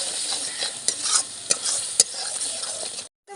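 Momo sauce of tomato water, salt and sugar stirred in a pan, a steady close sizzle with scraping and a few sharp utensil knocks, cutting off briefly at the end.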